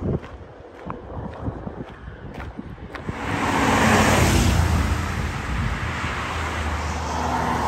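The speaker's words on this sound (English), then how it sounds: "coming up to a big highway" Busy traffic on a big highway near Harpers Ferry, heard from a roadside walking trail: a steady, loud broadband roar of passing vehicles that swells in after a few seconds of quieter wind-buffeted footsteps and stays dense and continuous.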